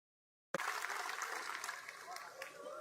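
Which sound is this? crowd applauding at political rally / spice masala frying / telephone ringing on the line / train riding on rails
crowd applauding at political rally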